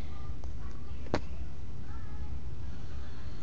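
A house cat gives one short, clear meow partway through, over a quiet room with faint background noise and no other distinct sounds.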